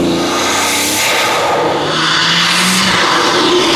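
A tuned BMW M140i with a front-mounted intake behind the grille roars loudly and steadily up close, with a deep rumble and a rushing intake howl throughout.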